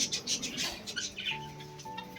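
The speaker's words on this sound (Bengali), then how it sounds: "অনেক রকমের পাখি আছে" Birds chirping at a bird enclosure that also keeps turkeys and chickens, a busy mix of bright chirps and tweets followed by a sustained thin whistle-like tone, fairly close.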